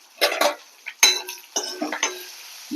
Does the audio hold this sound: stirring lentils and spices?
yes